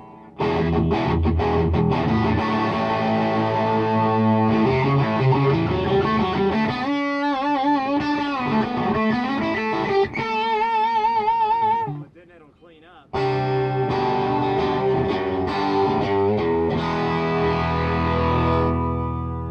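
A distorted electric guitar plays chords and melodic runs through an overdriven 65amps amplifier, loud and sustained, with a brief drop before resuming.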